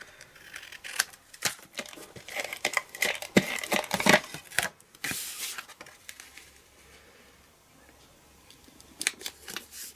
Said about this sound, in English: Grab the scissors, trim it off.